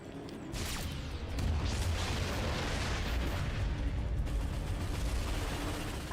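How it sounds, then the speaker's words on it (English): Ion cannon blast fired in the Ratchet & Clank video game: a loud, sustained rumbling roar with crackling and mechanical texture, starting abruptly and holding steady for several seconds with no talk over it. "We have to hit them with an ion blast."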